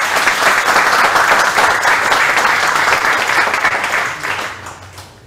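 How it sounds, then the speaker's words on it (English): A conference audience gives speakers at a fintech bootcamp launch a loud, steady round of applause, dense and sustained, fading out near the end. "please join me in giving our speakers a big round of applause"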